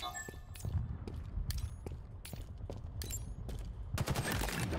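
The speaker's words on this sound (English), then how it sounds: "He's trying to shoot me through the grate." Rapid bursts of gunfire crackle through a Halo Infinite match, with sharp repeated shots in uneven clusters and a heavier volley near the end, moderately close over low game ambience.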